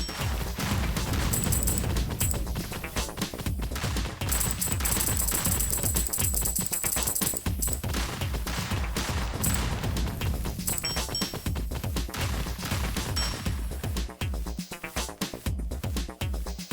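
Rapid, dense shotgun blasts and explosions in the mech-and-bugs video game Project Lazarus, a loud continuous barrage of overlapping shots and crashes with high electronic tones over it.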